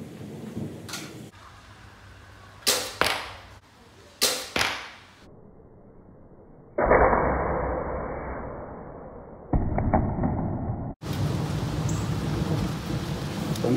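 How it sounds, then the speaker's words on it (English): Thunder rolls as a long, low rumble over an outdoor crossbow range, with rain hissing steadily underneath and a few sharp impact cracks earlier on. "Thunder rolls."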